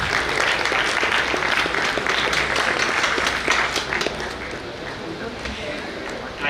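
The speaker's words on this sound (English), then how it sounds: "Let's welcome them with a huge round of applause." Huge round of applause at a regional professional conference as committee members come on stage, a loud, dense roar of clapping from a large audience that eases slightly toward the end.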